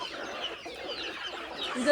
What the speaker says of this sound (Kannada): ಕೋಳಿಗಳಿಗೆ ಅನ್ನ ಸಂತರ್ಪಣೆ